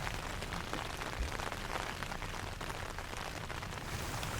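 Steady, dense rain pours during a major storm around a narrowboat, a constant broadband hiss of drops on surfaces with no pauses and no voices.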